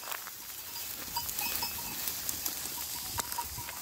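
A flock of sheep grazing in an unharvested wheat field makes faint, distant livestock calls over a quiet outdoor background, with no talking.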